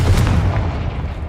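A Confringo fire spell explosion in the Hogwarts Legacy video game, a loud deep boom that rolls off and fades over about a second, with no talking.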